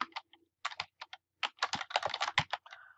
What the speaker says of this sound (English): I'm just gonna click in here and type my name